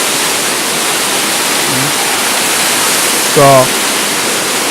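Niagara Falls water roars down at the Cave of the Winds, a loud, steady broadband rush filling the whole span, with a brief voice speaking near the start and again toward the end.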